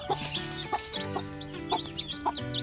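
Native chickens cluck in short, repeated bursts alongside a few sharper calls, close and moderately loud, with no talking.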